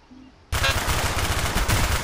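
Sudden loud burst of rapid automatic gunfire in the Black Ops video game, breaking in after a brief quiet moment and continuing as a dense, close, unbroken stream of shots.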